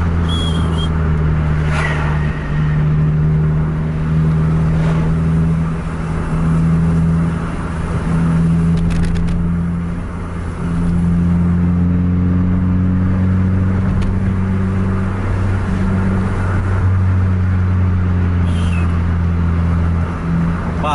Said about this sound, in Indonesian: Truk juga cukup padat dari arah berlawanan untuk malam ini.